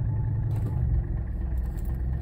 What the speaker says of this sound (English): it's just shuddering, it's barely running. I got my foot to the floor right now. You can hear it. It won't even rev past like 600.